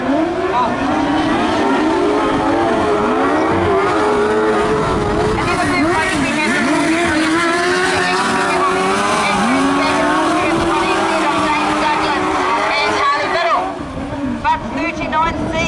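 Speedway sidecar racing bikes at Rosebank Speedway roar around the track in a sustained, loud engine drone with rising and falling revs as machines pass, while a race commentator talks over the noise throughout.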